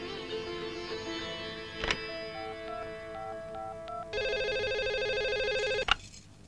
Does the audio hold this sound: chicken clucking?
no